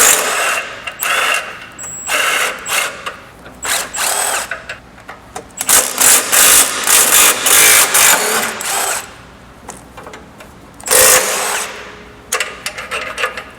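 Impact gun bursts repeatedly whirring on transmission mount bolts of a Lexus GX460, several short loud runs of high-pitched tool spin separated by brief pauses, close up with no talk.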